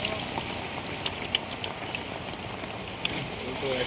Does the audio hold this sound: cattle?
no